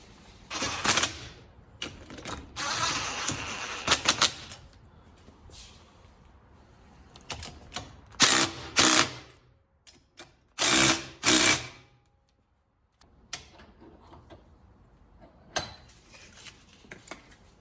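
Impact or power tool zipping 17 mm suspension bolts into a Celica during a 3SGE Beams engine swap and suspension and brake install, heard as several loud mechanical bursts separated by quieter pauses and clatter in a garage.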